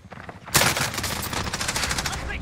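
GRAU 5.56 rifle fire in a video game shooter, a loud, rapid automatic burst that starts abruptly and continues as a dense stream of close shots to the end.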